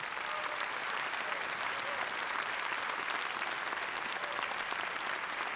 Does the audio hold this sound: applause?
yes